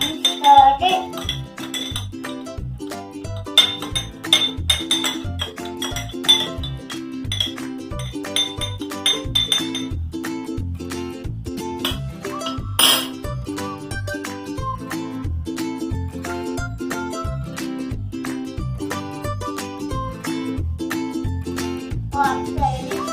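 A spoon clinks steadily against a glass of water as sugar is stirred in, with rapid bright metallic taps repeating close and loud, without pause, for over twenty seconds.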